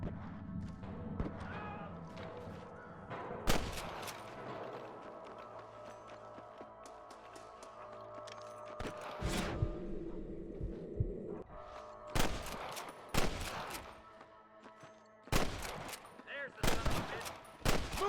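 Sniper and rifle gunfire in the Western video game Red Dead Redemption, sharp cracks and bursts of shots scattered through a tense game soundscape, some volleys clustered near the end, with voices talking between them.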